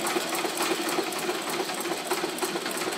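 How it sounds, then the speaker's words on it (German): A very old, early hand-cranked sewing machine, shown in a museum in Colonia Bella Vista, runs with a steady, rapid mechanical clatter for the whole stretch, close by and without talk. "Das hier ist eine ganz alte Nähmaschine von den ersten. So mit Handknopf."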